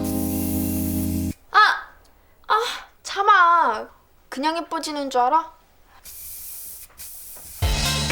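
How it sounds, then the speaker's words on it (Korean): Hair spray hisses from a can in two broad bursts, one at the start and another later. Between them someone speaks, and the spray is loud and close. "마지막으로 헤어스프레이를 뿌려주는"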